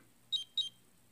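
Two quick high-pitched chirping notification tones from a Samsung Gear S3 Frontier smartwatch in succession, short and bright, against a quiet background.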